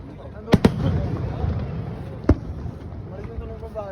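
Fireworks burst in Japan in 2025, a few sharp loud pops spread over several seconds above a murmur of crowd voices and talk.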